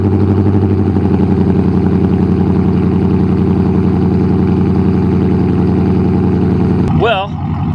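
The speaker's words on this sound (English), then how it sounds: "I'll be the first to admit the exhaust actually sounds really good on this" A Dodge Scat Pack V8 idles loud and close after starting, a deep steady throbbing exhaust burble that holds level throughout, then ends in a brief click and short squeal at the end.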